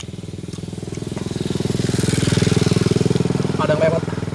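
A classic motorcycle rides past outdoors, its loud pulsing engine swelling as it nears and then easing off, with a brief voice near the end.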